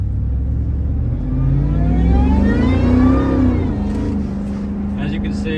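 A 2004 Ford SVT Lightning pickup accelerates onto the highway, its engine note sweeping steadily upward in pitch and then easing off as it settles at speed. The loud, close drone runs continuously, heard from inside the cab.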